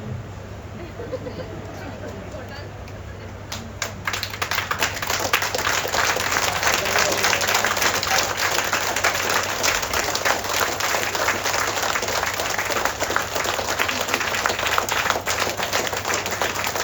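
An audience applauds at a motivational talk, steady dense clapping that swells after a few seconds and keeps going loud and continuous to the end, with faint crowd murmur beneath.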